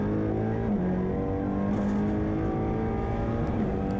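An Audi RS3 LMS WTCR touring race car engine at Adria International Raceway, heard onboard as a loud, continuous harsh drone that climbs in pitch through the gears under acceleration.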